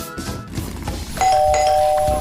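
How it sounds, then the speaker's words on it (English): An electronic doorbell chimes once, a sustained bright ding ringing out clearly after some quiet rustling. "That's the doorbell!"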